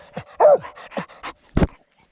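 A hunting dog on a squirrel hunt, having treed a squirrel in pine woods, lets out a few short, close yips and whines in quick succession, followed by a sharper bark.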